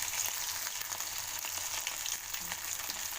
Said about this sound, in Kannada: ಎಲ್ಲವನ್ನು ಹಾಗೆ ಡೀಪ್ ಫ್ರೈ ಮಾಡ್ಕೊಂಡು ಹೋಗ್ತೀನಿ